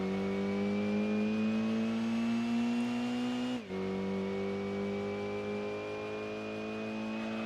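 Volkswagen Golf engine in the video game Gran Turismo 2 holds a loud, steady high-revving drone that dips sharply for an instant midway, then settles back into a slightly lower sustained whine.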